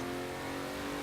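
Apollo Intensa Emozione engine revving in Forza Horizon 4, a loud steady high-pitched mechanical wail with strong harmonic tones, close and continuous for about a second, without any talking.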